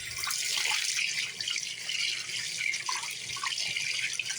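The bathroom hot water tap runs cold in a steady, close stream into the sink, with faint dripping textures and no voices.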